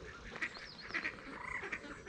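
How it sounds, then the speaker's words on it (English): Ducks quack downriver in a faint, distant chorus of short, repeated calls over quiet outdoor background. "all the ducks way downriver that are just going crazy"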